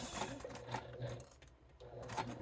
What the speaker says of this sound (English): go down, and back stitch in the end